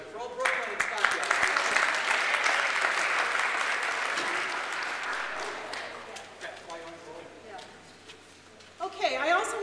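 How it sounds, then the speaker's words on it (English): Audience applause at a Cleveland City Council public meeting for the Old Brooklyn and Stockyards neighborhood, a dense, steady round of clapping that tapers off before a voice and brief noise return at the end. "I'm going to let you clap for the neighborhood"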